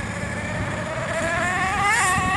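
Engine of an MG car, a 4.6 litre model, drones steadily while driving, its tone rising slightly toward the end, close and continuous with no voices.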